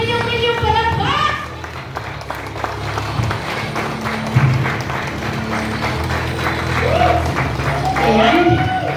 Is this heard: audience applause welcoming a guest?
yes